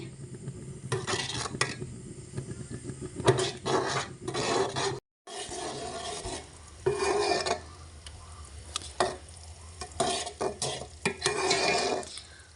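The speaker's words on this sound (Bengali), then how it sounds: "অনব্রত আরও কিছুক্ষণ নাড়াচাড়া করতে করতে দেখতে পাচ্ছেন কালারটি কিন্তু আর একটু গাঢ় হয়ে গিয়েছে" A spoon scrapes a pan in steady back-and-forth strokes during continuous stirring while cooking, with a faint sizzle underneath and one brief pause, close up.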